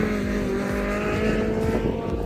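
Audi TT 1.8 lapping Blyton race track, its engine note droning steadily and loud throughout under hard acceleration, with no voices.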